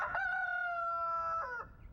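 A pet chicken crows once, a clear, close, single cock-a-doodle-doo with a long sustained middle and a short drop at the end, alone in a quiet setting.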